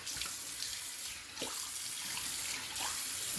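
Running tap water splashes into a sink as a face is rinsed after a wet shave, a steady close stream broken by cupped-hand splashes and faint gurgles, with no talking.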